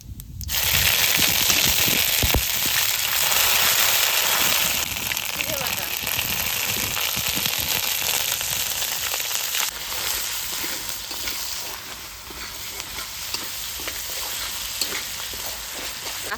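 Bay leaf and black cumin sizzling in hot oil, a loud close crackle with sharp pops at first that settles into a steady sizzle, with a voice talking over it.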